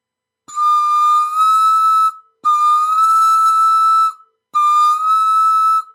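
Pan flute blown on a sustained high note three times in a row, each a clear, pure breathy tone held for about one and a half seconds with short silent gaps between.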